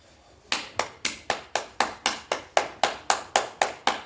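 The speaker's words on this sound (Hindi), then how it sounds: "एक बार ताली से करें," Crisp hand claps during a yoga exercise, about fourteen in a steady even rhythm, close and distinct, after a brief quiet start.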